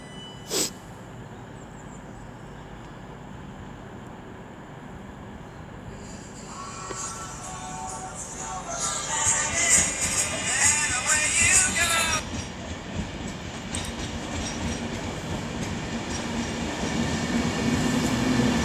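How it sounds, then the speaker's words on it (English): An Avanti West Coast Class 390 electric train, unit 390-011, arrives at Coventry station on the West Coast Main Line. The rumble and rail noise swell and grow louder as it draws in, a sharp click near the start and no voices. "coming in 390-011 with the 11:36 Avanti West Coast service from London Euston to Birmingham New Street"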